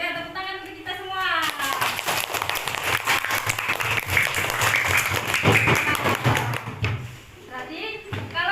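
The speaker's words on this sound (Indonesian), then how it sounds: "tepuk tangan untuk kita semua" A classroom group of students claps together in sustained applause after good marks, a dense burst of claps lasting several seconds, with a voice speaking before it starts and again as it fades.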